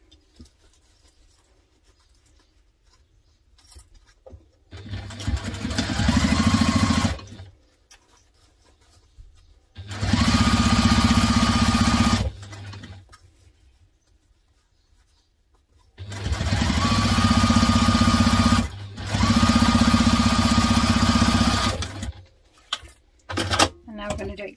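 A sewing machine top stitches a Nova sling bag in three sustained loud runs separated by pauses, with a steady motor whir and fast needle patter, close up, and a speaking voice in the gaps.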